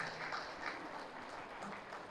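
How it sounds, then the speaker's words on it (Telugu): An audience at a vegetarian rally in Siddipet applauds Bhupathi Raju, a faint, distant wash of many hands clapping continuously for a couple of seconds. "భూపతి రాజు గారికి ఒకసారి చప్పట్లతో వారిని అభినందించాలి"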